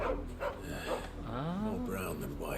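A dog in the Final Fantasy XVI video game gives short barks and whimpering yips, heard up close among game sounds and speech.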